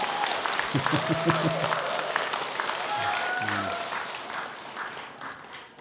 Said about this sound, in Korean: 박수를 치려면 화끈하게 치지 어영부하게 치지